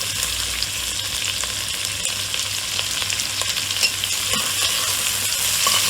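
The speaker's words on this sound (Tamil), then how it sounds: "கேப்சிகத்தை ஆட் பண்ணி கொடுப்போம்." Diced capsicum and carrot being stir-fried in a hot pan for egg fried rice give a steady close sizzle, with a spatula scraping and stirring against the pan throughout and no voices.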